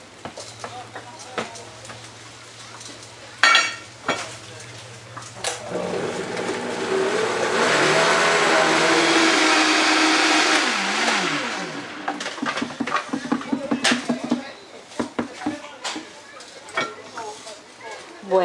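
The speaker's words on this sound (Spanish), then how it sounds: "Y ahora vamos a licuar." Blender whirring a raw vegan mix with lemon juice, a loud motor run of several seconds rising and falling in pitch, with someone talking before and after it.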